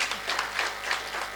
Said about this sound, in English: Give a good round of applause, please.